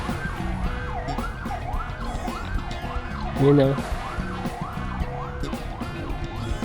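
An ambulance siren wails steadily in repeating rising-and-falling sweeps amid traffic, with a short horn-like blare in the middle and a brief voice speaking.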